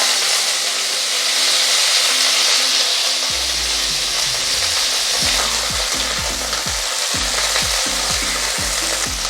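Cauliflower pieces hit hot mustard oil with whole cumin and erupt into a loud, steady sizzle, with a spatula scraping and stirring in rhythmic strokes through the second half. No talking.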